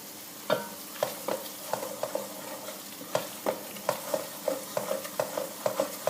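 Tunisian mloukhia frying in hot oil, a low sizzle under rhythmic stirring strokes that knock and scrape the pot roughly every half second, close and moderately loud, no voices.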